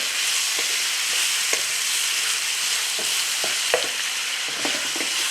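Garlic and ginger stir-fried in a pan for a beef and noodle dish give a constant close hiss of frying, with scattered light scrapes and taps from the stirring utensil and no talking.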